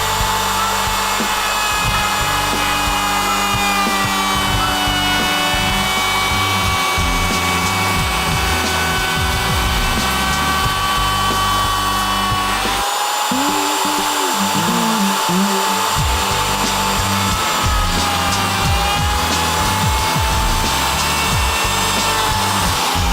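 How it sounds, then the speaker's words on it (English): A power router cuts a curve into hardwood with a continuous loud, whining grind that shifts in pitch as the bit bites, briefly changing tone partway through before resuming its steady roar. "So we've got this curve routed in here now"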